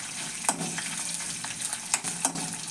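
Fish hisses in hot oil in a pan as a steady sizzle, broken by several sharp crackles and pops, at a moderate level with no talking.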